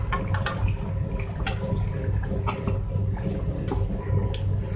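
Fried fish pieces go into a pot of boiling curry water, giving a steady, close bubbling and sizzling wash with small splashes and spatters throughout.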